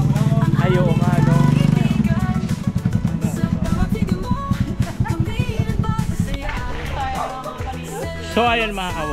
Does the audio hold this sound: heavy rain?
no